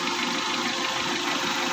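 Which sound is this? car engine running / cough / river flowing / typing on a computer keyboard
car engine running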